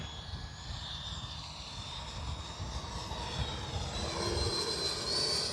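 An FMS Super Scorpion V2 RC jet makes a slow, low pass with its flaps down: a steady jet whine and rush that swells slightly as it nears, with no talk.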